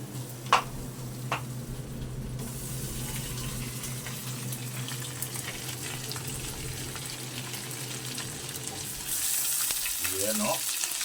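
Shrimp sizzle in a hot pan at home in a steady hiss of frying that grows louder near the end, with a couple of sharp clicks early on and a voice joining in at the close.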